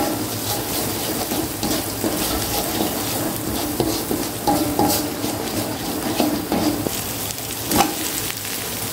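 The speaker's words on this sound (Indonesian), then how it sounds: "bumbu gulai biar ditumis bareng" Gulai spices such as nutmeg, cloves, cardamom, cumin and fennel sauté together in a pan with a continuous sizzle, overlaid by stirring scrapes and occasional clinks of a utensil against the pan.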